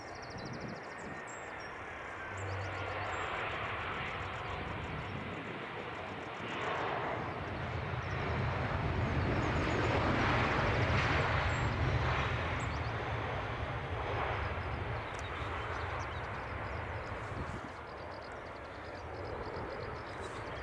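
EasyJet airliner lining up for departure to Paris at Edinburgh Airport, a faint distant jet engine rumble that slowly swells and fades over about twenty seconds, with no talk.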